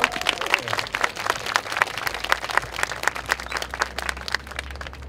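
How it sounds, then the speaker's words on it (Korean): An audience at an emergency debate forum on university issues breaks into brisk, crowded applause, with sharp overlapping claps continuing evenly for about five seconds. "박수 쳐주세요."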